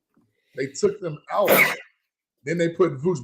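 A single sharp sneeze bursts out between stretches of someone talking about basketball, loud and close.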